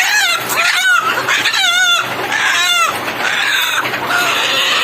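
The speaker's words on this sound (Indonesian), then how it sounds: "Ini salah satu ayam yang nggak bertelur." Hens cluck and chatter loudly and close up, including one hen that does not lay eggs, with repeated warbling calls rising and falling in a busy flock of farm chickens.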